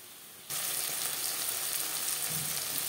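Sliced tomatoes stirred in a hot pan for a vegetarian cabbage curry, a steady close sizzle that starts abruptly and continues evenly, with faint stirring underneath and no voices.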